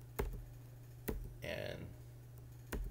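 A computer keyboard being typed on: a few sparse, sharp key clicks spaced about a second apart, with a brief soft voice sound between them over a quiet electrical hum.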